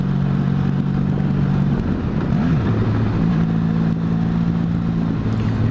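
A 1996 Honda Magna motorcycle engine running loud and close, a steady engine drone whose pitch dips and climbs once as it revs, then settles into an even hum again.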